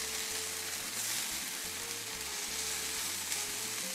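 Breakfast burrito filling with bacon sizzles and crackles steadily in a hot frying pan, a loud continuous fry close up with no voices.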